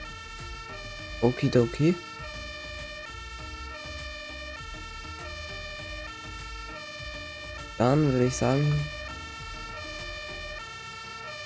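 A fire engine siren in the Farming Simulator 22 video game, responding to trees down on a road in a snowstorm, wails steadily with rising and falling whoops and horn blasts while someone speaks German over it.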